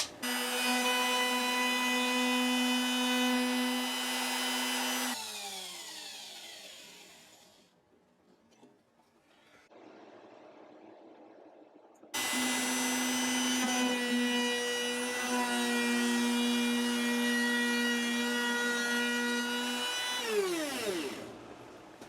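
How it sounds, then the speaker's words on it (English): Power cutter slotting the saddle slot in a rosewood bridge on a 1967 Gibson J-45 guitar, two loud steady high whining runs that spin up and wind down, with a quiet pause between them. "So I start with the cutter just kissing the top of that rosewood bridge, then I make my adjustment from there."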